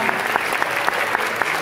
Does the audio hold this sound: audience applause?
yes